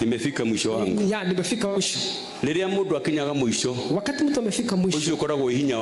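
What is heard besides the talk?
None of the usual background noises is heard.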